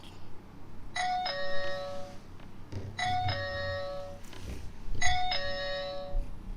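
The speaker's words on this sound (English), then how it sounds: "we can use the doorbell icon on the C100 to send the open door request." A LifeSmart C100 smart lock's doorbell chimes three times at even intervals, each a clear two-tone ding-dong that rings out over a low background murmur.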